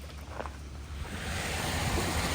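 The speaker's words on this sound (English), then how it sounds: "Just a little windy." Wind blows outdoors in a steady, loud rush that buffets the microphone, swelling slightly stronger midway and continuing without talk.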